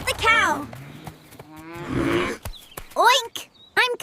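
Cartoon cow lowing on a farm, a drawn-out moo in the middle of the clip, with short animated character voices speaking before and after it.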